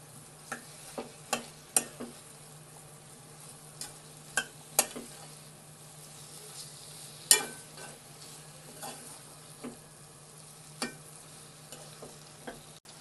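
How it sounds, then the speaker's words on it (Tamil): Mutton liver being stir-fried in a pan for an Andhra-style liver curry gives a quiet, steady sizzle with scattered sharp clicks and scrapes of a spatula against the pan, close by and without voices. "நம்ம இது கூட ஈரல் சேர்த்துக்கலாம். நல்லா இதை பரட்டிக்கலாம் இதை."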